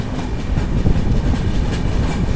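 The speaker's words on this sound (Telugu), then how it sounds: "సో మన ట్రైన్ వచ్చేసి పొందూరు నుంచి అయితే బయలుదేరిపోయింది." The Visakha Express pulls away from Ponduru station with a loud, steady rumble and rolling wheel clatter heard from on board, with no voices.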